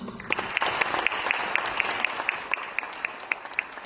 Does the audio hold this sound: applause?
yes